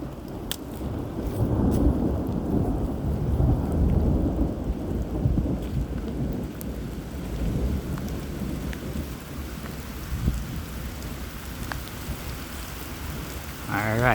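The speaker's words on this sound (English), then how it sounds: "storm approaches." A February thunderstorm approaches a state park warming hut in New York: steady rain patters while deep thunder rumbles roll through, swelling and fading over the stretch, with a few sharper cracks and no clear talk.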